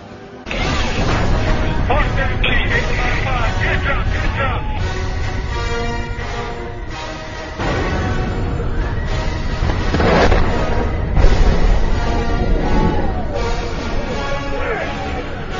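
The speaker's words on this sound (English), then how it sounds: "the Apache is shooting." An Apache helicopter fires in close air support during combat, with repeated loud bursts and booms spread through the stretch, while voices talk over the radio and nearby.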